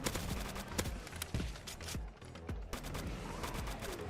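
A new gun fired in the Zombie Uprising game: rapid irregular gunshots, sharp and clipped, over a steady busy game background, fairly quiet overall and without talking.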